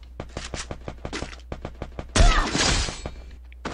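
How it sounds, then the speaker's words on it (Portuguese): Video game gunfire, a rapid series of sharp close shots in a steady rhythm, then a loud burst with a shattering, breaking crash before it trails off. "Vai finalizar com tiro na cabeça."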